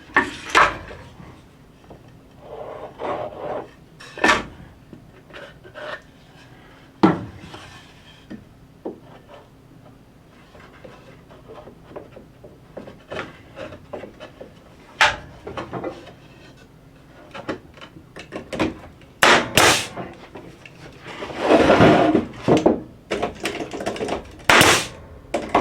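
Staple gun driving 1.5 inch staples into wooden fence pickets on a planter bench, a series of sharp, loud snapping shots at irregular intervals, with a dense flurry near the end and quieter handling between.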